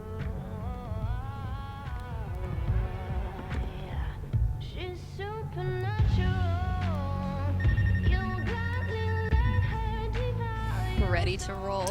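A phone rings in the video game Life is Strange, with repeated melodic ringtone tones blending into tonal game music, and a person talking over it throughout.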